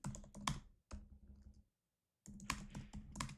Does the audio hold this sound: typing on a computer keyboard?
yes